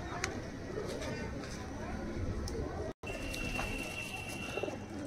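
Andhra Madras pigeons coo steadily in a loft, a low continuous murmur with someone talking over it, a faint high tone running through the latter half after a brief dropout.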